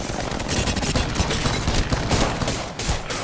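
Rapid bursts of gunfire from Apex Legends rattle almost continuously through the scene, loud and dense, with overlapping shots forming a steady barrage over a brief few seconds.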